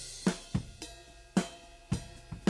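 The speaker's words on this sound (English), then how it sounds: "So let's listen to the overhead without any processing on the chorus" Unprocessed overhead drum mics on a song chorus: sharp cymbal-bright hits recur in a steady rhythm with a low drum body under each, a moderately loud kit heard alone without any voices.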